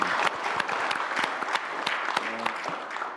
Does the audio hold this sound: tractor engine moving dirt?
no